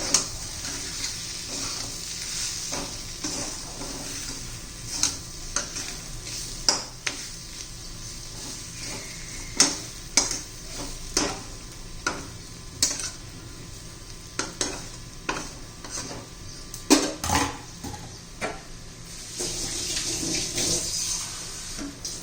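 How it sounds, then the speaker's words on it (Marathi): Irregular scraping stirs and taps of a spoon against a pan as chickpea flour is mixed into frying capsicum, over a steady sizzle, close by, with no talking. "एक दोन चमचे बेसन पीठ घालणार आहोत सगळं व्यवस्थित मिक्स करून घेऊया"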